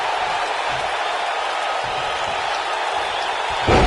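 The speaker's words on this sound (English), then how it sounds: "This capacity crowd starting to sense the end is near" A capacity crowd roaring in WWE 2K19 during a six-man match featuring Hulk Hogan, Ultimate Warrior, Dusty Rhodes, Andre, Ted DiBiase and Jake Roberts, a constant wash of cheering under thuds, with a commentator talking over it.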